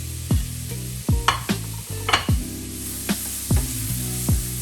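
Onions sizzling in butter in a frying pan for a sweet and sour dish: a steady hiss runs throughout, broken by repeated sharp clinks and scraping strokes of stirring.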